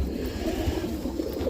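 A little red checker roller pigeon hen coos softly and close by in a low, continuous burble, with faint background noise.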